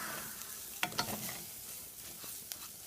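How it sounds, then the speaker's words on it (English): Rice with chopped onion frying in a pan gives a faint, steady sizzle, broken by a few light scraping stirs near the middle and end. "So I've added the onion to the rice, and I'm still kind of frying the rice."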